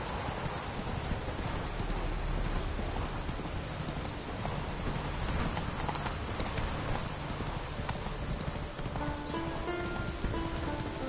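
In the Witcher 3 video game, the horse Roach gallops through steady rain, a continuous rhythmic clip-clop of hooves under a dense hiss of falling rain.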